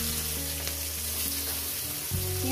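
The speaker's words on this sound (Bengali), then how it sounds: "পেঁয়াজ কুচোটাকে দিয়ে দিলাম" Chopped onion frying in hot oil with cumin seeds for a katla fish curry: a steady, close, even sizzle with no talking.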